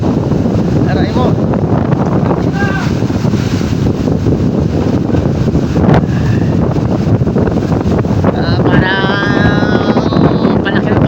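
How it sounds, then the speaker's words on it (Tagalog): Strong wind buffets a small boat out at sea among big, growing waves, making a loud, continuous roar with gusty surges, and voices come through now and then. "Parang palaki na palaki pa rin ang alon."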